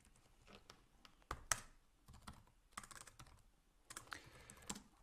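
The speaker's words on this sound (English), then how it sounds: "My typing is becoming worse and worse." Fast, uneven typing on a computer keyboard during C++ programming, a dense patter of close, crisp key clicks with a few louder sharp strikes, in short bursts with brief pauses.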